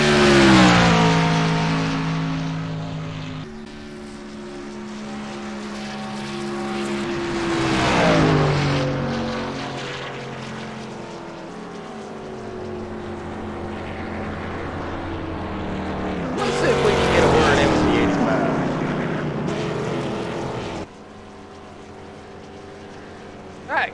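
Race car engines on a racetrack at night, running behind the pace car: loud, buzzing engine drones that rise and fall in pitch as cars pass close by, overlapping in waves.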